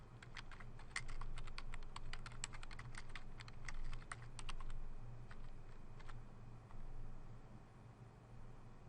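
Typing on a computer keyboard while entering comments into a pediatric electronic health record, with steady clicky keystrokes through the first half that thin out to a few scattered taps, over a faint constant hum.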